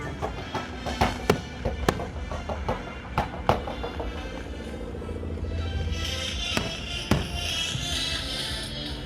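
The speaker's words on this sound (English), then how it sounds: "Full fireworks show at a car meet." Sharp, irregular bangs and cracks of fireworks going off at middle distance at a car meet in Thailand, over a busy outdoor crowd and engine rumble.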